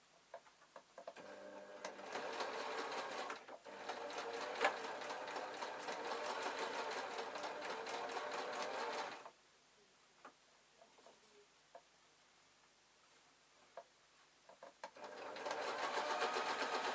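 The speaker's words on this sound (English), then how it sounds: "I'm going to put them in the sewing machine and do some straight line stitching" A sewing machine running straight-line stitching: steady, rapid mechanical whirring in two long bursts, with a quiet pause of light clicks between them.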